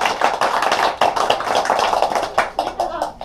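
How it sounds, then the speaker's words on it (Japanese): Applause from an audience at a Japanese panel event on labor issues, welcoming a labor lawyer as he is introduced; steady clapping from many hands fills the room, fairly close and continuous throughout. "拍手"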